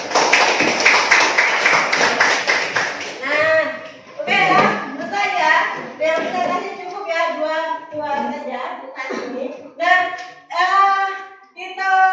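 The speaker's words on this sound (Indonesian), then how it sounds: "Aplaus terakhir." Applause breaks out at the close of a school academic coaching supervision session, several hands clapping together in a steady burst before it thins out into scattered claps and voices.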